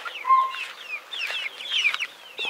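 A flock of small and large chickens pecking at scattered feed in a village yard, clucking continuously and close by in overlapping calls, with a few sharper squawks.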